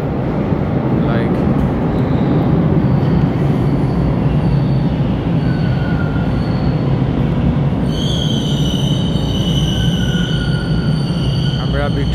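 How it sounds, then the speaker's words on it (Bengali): A metro train rumbles loudly and continuously at Victoria Park subway station, with high-pitched wheel squeals rising near the end and a voice speaking over the noise. "এটা হচ্ছে Victoria park train station, I mean metro."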